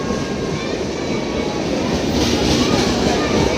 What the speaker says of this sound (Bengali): আমরা ঘাটশিলা চলে এসেছি আর এই আমাদের ট্রেন ছেড়ে দিল।